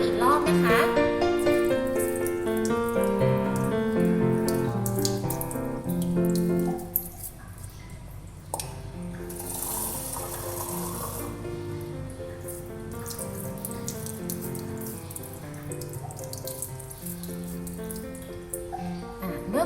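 A toothbrush is rinsed under a running tap, with water splashing and trickling into a sink beneath loud background music.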